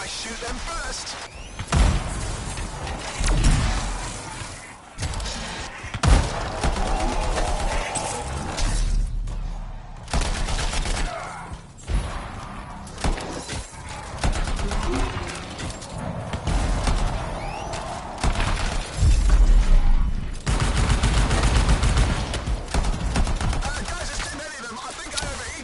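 Gunfire in the video game Anthem, repeated sharp shots and bursts in irregular clusters with brief lulls, loud and close, mixed with game sounds and effects throughout.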